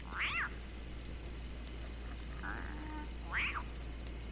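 In the game Don't Starve, with the Reign of Giants expansion, cat-like creatures make a few short, faint meowing calls spaced a second or two apart over a low ambient hum.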